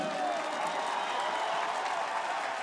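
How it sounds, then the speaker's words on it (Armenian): Dense audience applause at a political rally fills the whole stretch, a steady wash of many hands clapping with no pauses, fairly loud and even throughout. "բուռն ծափերով"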